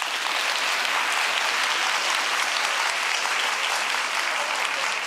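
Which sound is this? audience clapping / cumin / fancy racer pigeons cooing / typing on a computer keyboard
audience clapping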